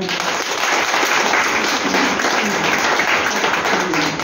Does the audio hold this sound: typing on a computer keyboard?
no